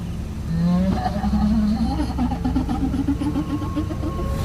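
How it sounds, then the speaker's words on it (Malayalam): A lorry engine turns over and catches, its low hum climbing in pitch and then settling into a steady rumbling drone nearby. "ഇതും പറഞ്ഞ് ഫറൂഖ് വണ്ടി സ്റ്റാർട്ട് ചെയ്തു"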